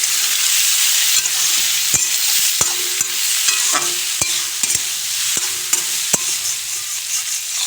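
Diced potatoes sizzle steadily in a pan after turmeric goes in, with a utensil scraping and clacking against the pan in irregular strokes every second or so, close and clear with no talking.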